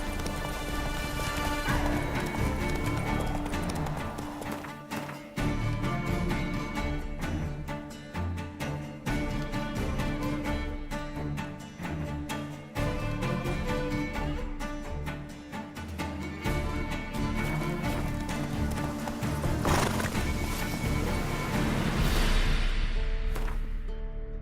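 Roach the horse galloping in The Witcher, with rapid rhythmic hoofbeats running continuously over a dense game soundtrack and ambience for the full length.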